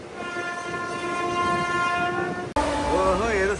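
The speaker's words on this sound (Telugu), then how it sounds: "ఓహో, ఏదో సూపర్ ఫాస్ట్ ఎక్స్ప్రెస్ కొట్టి పడింది వచ్చేది" A superfast express train passing Chagallu station sounds a long, loud, steady horn over rolling rail noise, then a wavering horn tone follows after an abrupt break.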